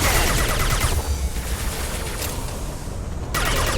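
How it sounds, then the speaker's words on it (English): Sci-fi gunfire from Mass Effect 2 cracks in dense rapid bursts, one at the start and another near the end, with a quieter rumbling combat lull between them. "Firing a high-impact shot!"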